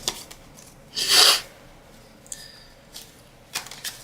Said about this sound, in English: I'm just shuffling these cards.